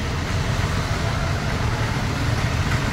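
Low, steady rumble of a car engine idling near a crowded Pune market while looking for parking, an even, close hum with no talk.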